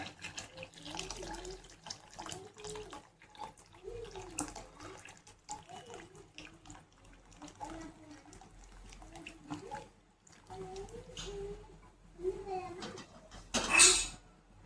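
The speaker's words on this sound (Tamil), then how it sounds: "இதில் நம்ம புளி கரைச்சி வச்ச தண்ணி ஊற்றிக்கலாம்" Tamarind water poured into a boiling fish curry, a soft running liquid sound under near-continuous talk, ending in a brief louder splash.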